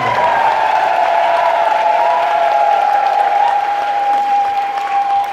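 Congregation at a Catholic Mass in Tanzania clapping steadily and ululating, a loud sustained wall of applause with a shrill trilling ululation riding on top throughout.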